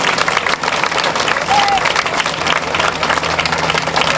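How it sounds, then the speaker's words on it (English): A crowd applauds volunteers at the Union Street Tavern Trot road race, a dense, steady wash of clapping that fills the whole stretch at close range with some voices mixed in. "So give our volunteers a big round of applause."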